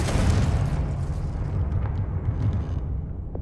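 A Confringo fire spell explodes in Hogwarts Legacy with a dense, rumbling blast that roars steadily for a few seconds, heavy in the lows and slowly thinning out, with no voices.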